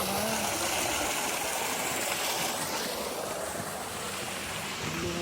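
A small clear stream flows beside a trekking trail near Ghandruk village, a steady broad rushing of water heard up close and fairly loud, mixed with some wind buffeting on the microphone.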